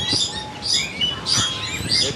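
Live birds at a street market in Kuala Lumpur chirp in quick, high, repeated bursts, close and clear, with no talk over them.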